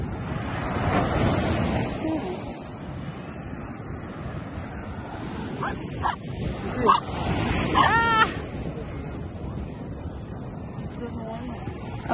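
Waves wash ashore on a beach, a continuous rushing surf buffeted by wind noise on the microphone, with voices and a dog's sounds breaking through in the middle.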